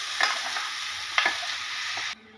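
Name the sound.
ground greens paste added to sizzling tempering and stirred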